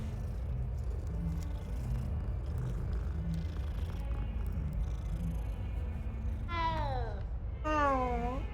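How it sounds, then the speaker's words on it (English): A cat in the video game Hogwarts Legacy gives two rising-and-falling meows near the end over a steady low rumble of game ambience. "I'm gonna make it my mission to stroke every cat."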